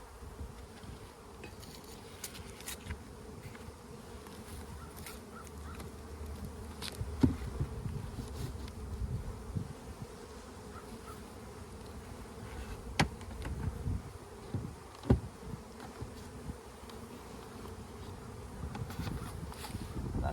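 Honeybees buzz steadily around spring hives being boosted with added deep supers, a dense, continuous hum filling the whole stretch with occasional louder passes as individual bees fly close.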